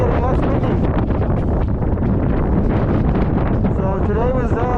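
Strong wind gusts buffet the microphone high on Franconia Ridge along the Appalachian Trail, a continuous loud roar and rumble with voices faintly under it near the end.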